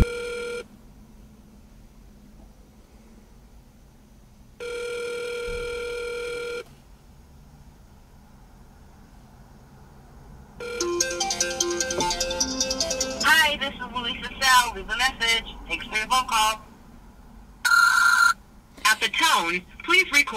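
Outgoing phone call that goes unanswered, heard as a repeating ringback tone in evenly spaced bursts with silent gaps, followed by a busier stretch of tones and electronic sounds toward the end.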